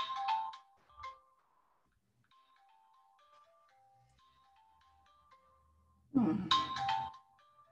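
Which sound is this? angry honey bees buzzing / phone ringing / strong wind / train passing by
phone ringing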